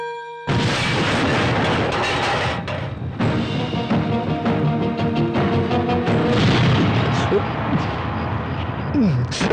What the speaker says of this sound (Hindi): police station blast bomb